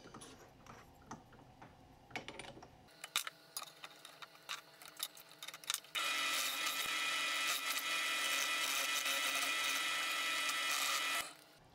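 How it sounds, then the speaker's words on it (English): Power drill cutting a countersink into a wooden antler mount, a steady high whine running several seconds after scattered clicks and taps, close and fairly loud. "I actually need to put a countersink in there, so let's get that done real quick."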